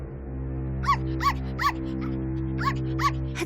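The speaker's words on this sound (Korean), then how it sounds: "하지만 토토가 짖기 시작하자 사자는 무서워 뒷걸음질 치더니 덜덜 떨기 시작했어요." Toto, a small cartoon dog from an animated fairy tale, gives six sharp, high yipping barks in two groups, heard over a steady low background hum.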